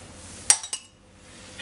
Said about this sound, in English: Stir this up really well.